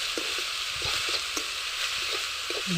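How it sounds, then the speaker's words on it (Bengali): Continuous bright sizzling of bathua greens frying in hot oil in a wok, close and loud, with occasional scraping and stirring knocks from a utensil against the pan. "শাকগুলো দেওয়ার সাথে সাথে এখন আমি ভেজে নেব শাকগুলো"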